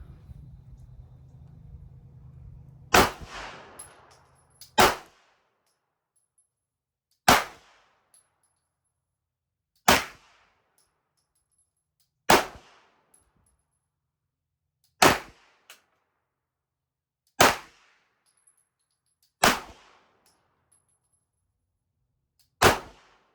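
Heavy steel-frame handgun fired one-handed, nine sharp shots spaced roughly every two and a half seconds, loud and close with brief echoing tails, after a low hum at the start.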